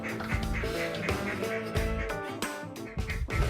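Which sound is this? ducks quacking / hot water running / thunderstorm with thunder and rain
ducks quacking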